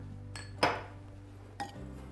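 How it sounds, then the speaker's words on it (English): A utensil knocking against a bowl while Parmesan, chopped parsley and olive oil are mixed, two distinct clinks over a low steady background hum. "Mix this around."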